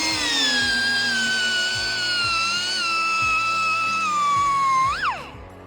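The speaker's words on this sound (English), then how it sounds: "This is a 3-inch Scotch-Brite on a 2-inch sander" A 2-inch sander fitted with a 3-inch Scotch-Brite pad polishes a weld on a Jet Stream Buccaneer four-seater build, giving a close, loud high-pitched whine that holds steady, dips slightly under load, then rises and winds down at the end.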